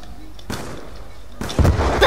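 Explosions go off in the video game Call of Duty: Black Ops 2 during an online match, two loud booming bursts with a sharp blast near the end, as players talk over them.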